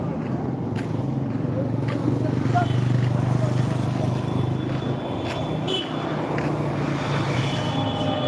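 A train crosses the Mouri bridge near Howrah, a heavy, steady low rumble heard close by with a voice talking over it throughout.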